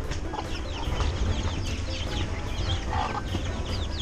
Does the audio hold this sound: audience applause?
no